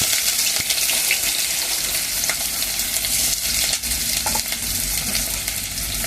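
Chopped onion and green chilies frying in hot oil with seasoning seeds for an ivy gourd curry, a loud, dense sizzle heard up close, steady throughout with occasional stirring scrapes.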